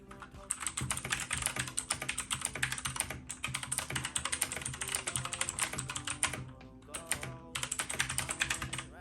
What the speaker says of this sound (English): I'm gonna start with the mechanical keyboard.